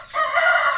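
A rooster crows once, loud and close, in a backyard chicken coop after heavy rain and strong wind, a single sustained call lasting under a second.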